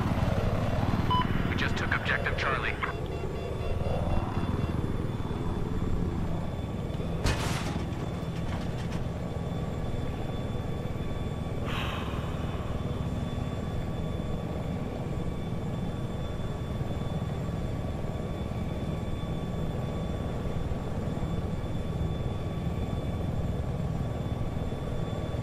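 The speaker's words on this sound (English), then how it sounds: "The attack chopper's over Bravo" An attack helicopter in a combat video game hovers with a steady, continuous rotor and engine drone, present throughout at moderate loudness beneath occasional voice chatter, with a couple of brief sharper bursts partway through.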